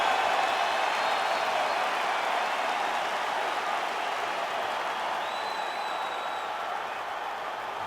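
A capacity arena crowd before a lightweight title fight, with a dense, sustained roar of applause and cheering that holds steady throughout and stays fairly loud and diffuse.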